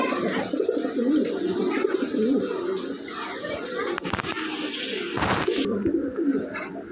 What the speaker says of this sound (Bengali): এখানে দেখতেছেন এক pair red Lahori running pair